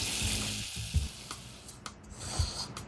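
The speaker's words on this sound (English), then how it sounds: "Let it sizzle and serve it right away." Steady hiss of instant noodles frying in a hot pan, with a few soft clinks and bumps breaking through the sizzle.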